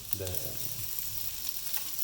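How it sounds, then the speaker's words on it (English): Steady frying sizzle of thick yellow noodles and hard vegetables fills the wok throughout, with a brief clatter of stirring near the start. "after a minute of frying the hard vegetables, we'll add in our thick yellow noodles"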